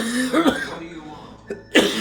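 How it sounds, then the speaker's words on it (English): A person coughs several times, short harsh bursts with a bit of throat clearing between, close and fairly loud, mixed with some vocal sound. "Pardon for all the coughing."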